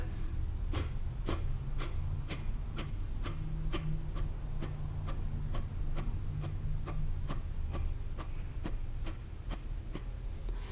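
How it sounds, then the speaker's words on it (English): Forceful pranayama breathing in a yoga practice: about twenty sharp, even exhale bursts pushed out at a quick steady pace, with no audible inhales between them, close and continuous over low room hum. "definitely not inhaling, just using that really strong exhale"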